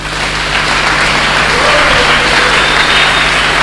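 Church congregation applauding the Lord during a sermon, a steady wash of clapping and cheering that fills the room, loud and sustained throughout with no break.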